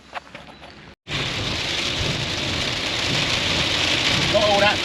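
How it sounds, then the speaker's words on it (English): A hailstorm of rain and thunder lands hard on nearby surfaces, with a dense, steady hiss after a brief quiet moment at the start. Faint rumbling sits underneath, and a few light sounds come before it starts. "Look, I'm in hailstorm."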